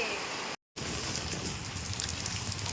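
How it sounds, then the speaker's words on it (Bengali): Heavy rain pours down in a steady, broad hiss of drops on surfaces. It cuts out completely for a moment early on, then comes back just as full and constant. "দেখো কত বৃষ্টি হচ্ছে"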